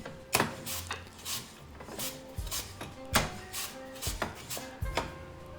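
A knife chops apple and celery root on a cutting board in a string of sharp, close thuds at an irregular pace, with a few quieter knocks between them.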